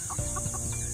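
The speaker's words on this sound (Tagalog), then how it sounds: "may inahing manok" A hen clucks in short repeated bursts at close range on a walking path in Pasir Ris National Park, Singapore, over steady outdoor background noise.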